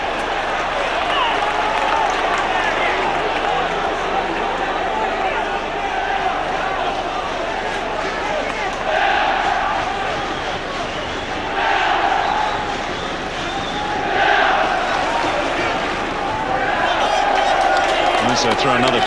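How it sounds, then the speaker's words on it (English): Ayr supporters at a Scottish football match against Kilmarnock raise a broad crowd roar, swelling in loud waves across the stand with steady cheering and noise throughout. "Big cheer from the Ayr supporters."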